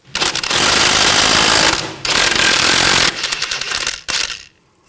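A power tool rattles loudly in long bursts while a nut and bolt come off the front strut of a 2000-2006 BMW X5, two sustained runs and a shorter one with a brief pause between.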